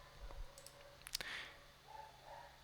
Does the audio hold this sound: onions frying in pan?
no